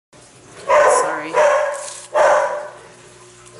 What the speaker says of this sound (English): my dogs are flipping out again